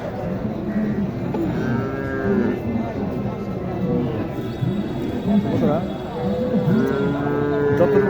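Cattle low repeatedly at a busy livestock market in Naogaon where bulls are sold, the moos rising over a constant crowd murmur with people talking throughout.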